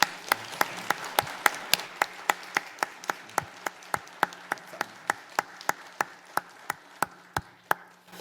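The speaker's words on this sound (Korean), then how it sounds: "우리 하나님께 다시 한번 감사와 찬양과 영광의 박수를 올려드리십시다" Churchgoers at an Easter Sunday service clapping together in a steady, even beat, crisp sharp claps at a fast regular pace over a quiet room background.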